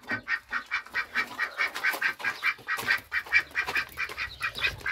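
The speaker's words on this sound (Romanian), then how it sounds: "Uitați și rața." Ducks quack steadily at a farmyard poultry pen, a rapid, rhythmic run of nasal calls repeating through the whole stretch at close to moderate distance, with no voices.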